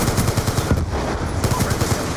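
An Abakan assault rifle in Call of Duty Black Ops 2 fires rapid automatic bursts, a dense stream of loud shots broken by a brief pause midway before firing resumes.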